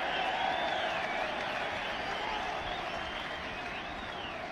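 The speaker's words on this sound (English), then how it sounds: "crowd here enjoying a bit of flamboyance from Ronaldo" A stadium crowd applauds steadily during a Real Madrid football match, a dense continuous wash of clapping and crowd noise at moderate distance, with a faint whistling tone drifting through it.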